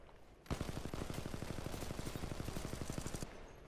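Rapid automatic gunfire in the video game Titanfall 2, a sustained burst of evenly spaced shots lasting nearly three seconds before cutting off, loud and close with no talking.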